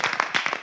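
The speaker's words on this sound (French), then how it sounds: "Alors, on applaudit très fort Harmonie." A handful of sharp claps ring out as a studio audience applauds a guest named Harmonie on a French live show, brief and fairly close.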